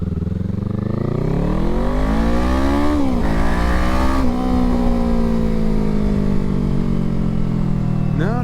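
A 2024 Kawasaki Eliminator motorcycle fitted with a Voodoo muffler rides and revs loudly up close. Its engine note climbs and drops through gear changes, steady and continuous, with no talk.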